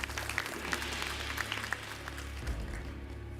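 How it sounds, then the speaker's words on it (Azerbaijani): Steady applause from a quiz audience for eight contestants who answered correctly, a moderate clatter of clapping with a low hum beneath, fading toward the end. "8 nəfər alqışlanır hal-hazırda"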